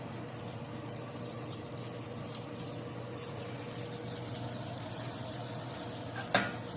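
A quinoa veggie burger patty frying in a hot, lightly oiled pan gives a steady, fairly quiet sizzle throughout, with one brief sharp click near the end.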